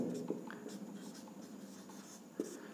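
Equations written on a board during a twelfth-class physics lesson on the Wheatstone bridge: faint, close scratching strokes with a couple of sharper taps, quiet and continuous, with no talking.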